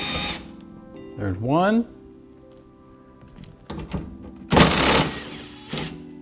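A small air gun spins off 10 mm bolts on the driver's door of a 2009 Honda Civic during window motor and regulator replacement: a loud rising whir, then a few short hissing bursts, with someone talking between them.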